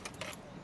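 Keys jangle in a short metallic burst as they are pulled from a pocket by a gloved hand, a few bright clinks close by with no talking.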